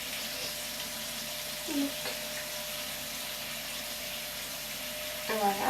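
Running water from a tap as hands are rinsed during a morning face-washing routine, a steady broadband splash under faint speech, with a brief louder trickle near the end.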